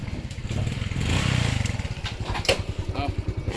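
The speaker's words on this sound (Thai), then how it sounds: "มอไซค์ขึ้นรถใหญ่" A motorcycle engine runs close by with a steady pulsing putter, rising slightly mid-clip, while the bike is loaded onto a large six-wheel truck during a house move; clattering knocks break in near the end.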